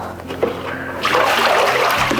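Water from a tap pours and splashes steadily into a sink or bowl for rinsing lettuce during home meal prep, starting softer and then growing louder and fuller after a second.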